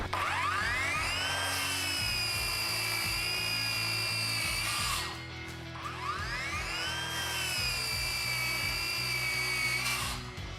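A 7-inch 20V cordless circular saw whines loudly as it bites through wood in two long continuous cuts, with a brief drop between them and a steady motor hum underneath.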